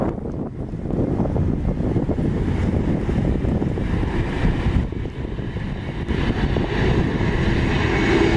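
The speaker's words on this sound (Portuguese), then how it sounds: "Tá ventando demais aqui, hein?" Strong crosswind buffets the microphone at Guarulhos Airport in a steady, loud rumble with gusting swells throughout, no voices.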